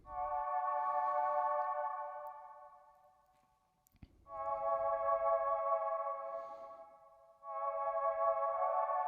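Electric-piano-style keys from 40's Very Own Keys play sustained chords, two long held swells with a short dip between them and a third entering near the end, alone with no voice.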